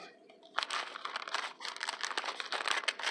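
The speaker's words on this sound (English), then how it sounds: "I obviously don't know how to unwrap very well." A small wrapped book being unwrapped, with loud, close paper crinkling and tearing in a busy, continuous stretch after a quiet start.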